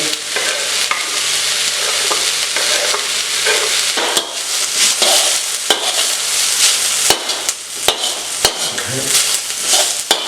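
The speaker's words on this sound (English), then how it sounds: "I have going in now is about 4 cloves of garlic" Garlic, shallots and lemongrass fry loudly in hot oil with a dense, steady sizzle, punctuated by sharp scrapes and clicks as a utensil stirs the pan.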